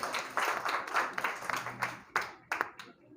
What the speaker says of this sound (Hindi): तालियों के साथ स्वागत कीजिए इनका भी